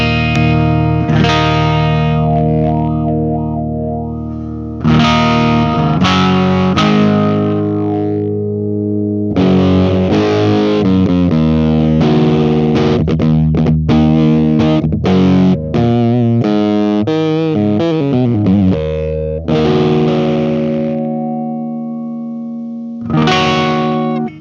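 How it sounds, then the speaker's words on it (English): Electric guitar played through a JAX 8TR fuzz pedal with its wah circuit switched on, giving thick, distorted sustained chords and bursts of quick picked notes with a nasal, filtered tone, loud and unaccompanied. "we do have this wah circuit, which we can enable or disable independently from the fuzz"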